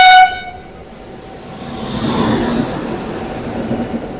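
An Indian express train approaches with a blaring multi-tone horn at the start, then a loud, steady rumble of wheels and carriages rolls past close by.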